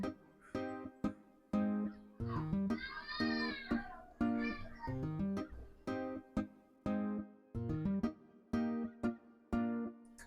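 A harp guitar sound from the Expand plugin in FL Studio plays a simple plucked melody, bright repeated notes with quick attacks and ringing decays, steady and upfront for about ten seconds.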